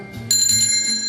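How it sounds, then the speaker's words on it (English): A handheld bell rung in a live radio studio gives a bright, ringing tone that starts abruptly and sustains, heard up close over low background room noise and a faint murmur. "let me get my bell"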